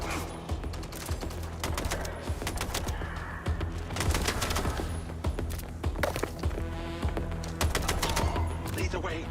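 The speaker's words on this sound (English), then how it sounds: "people are just shooting at me" Enemies shooting in the video game MindsEye, steady bursts of gunfire rattling throughout amid a busy, loud mix of game sound and a voice talking.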